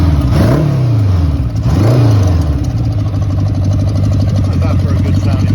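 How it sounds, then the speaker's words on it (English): A 1979 Honda Goldwing GL1000 motorcycle with a somewhat loud exhaust, heard up close: two sharp throttle blips rise and fall, then the engine settles into a steady, throbbing idle. "How's that for a good sounding motorcycle?"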